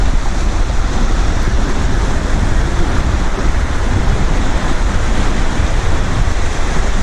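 Surf rolling in at high tide on the beach at Robin Hood's Bay, a steady loud roar of breaking waves and wash with no pause, mixed with a little wind.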